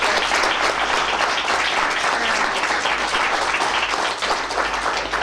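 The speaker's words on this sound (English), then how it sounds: "ask for one more round of applause for our wonderful panel" Audience applause for a panel at the close of a conference session, a continuous, full roomful of clapping held at an even level throughout.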